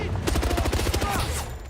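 Rapid automatic gunfire from a James Bond video game combat scene, a burst of closely spaced shots in quick rhythm, loud and near, lasting under two seconds.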